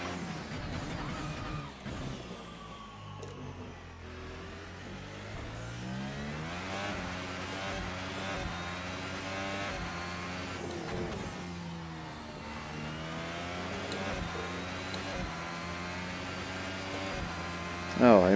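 An F1 car engine in a video game at the Chinese Grand Prix, screaming close up in high gear, its whining pitch climbing and dipping as the car accelerates and brakes through the lap.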